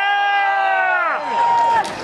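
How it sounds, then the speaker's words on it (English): Crowd at a Tea Party rally in Austin, Texas, yelling and cheering as one loud, close block of voices that swells, dips briefly, then rises again before tapering. "let's all give ourselves a big Texas cheer"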